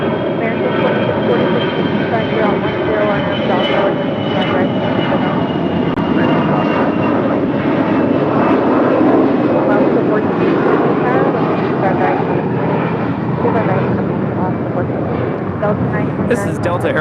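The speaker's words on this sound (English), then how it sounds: "This is Delta Airlines 929 departing to Dallas Fort Worth on an A321." A Delta Airlines Airbus A321 departing produces a loud, sustained jet engine roar with a high whine that persists for the whole stretch, with talking heard over the noise.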